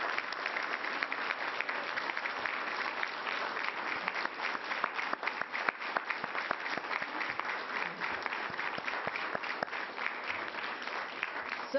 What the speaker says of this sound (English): Let's stand on our feet and give a round of applause to Linda McNeil and all the other homeowners who've endured so much.